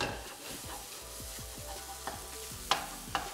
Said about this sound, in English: Now heat up to the max. And give this a stir.